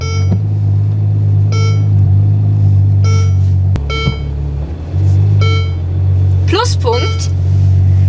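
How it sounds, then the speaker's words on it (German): Repeated reverse-warning beeps sound at regular intervals over a low engine rumble as a Ferrari GTC4Lusso backs up, sounding like a truck, with a brief voice partway through. "Rückwärts fahren klingt leider wie im LKW."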